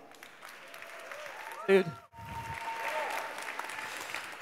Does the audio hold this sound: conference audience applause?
yes